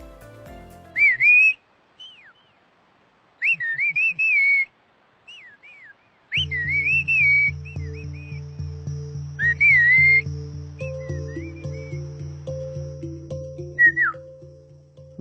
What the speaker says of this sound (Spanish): Veamos un interesante ejemplo de comunicación humana a través de los silbidos.